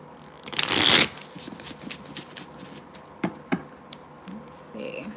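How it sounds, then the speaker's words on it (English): Tarot cards are shuffled in a loud riffling burst, followed by quieter taps and card handling sounds, with no talking. "let me shuffle"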